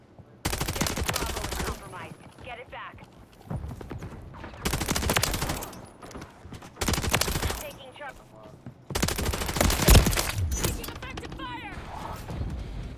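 Bursts of rapid automatic gunfire in Modern Warfare 3 multiplayer, loud and close, coming in four long sprays separated by brief pauses, with faint voices underneath.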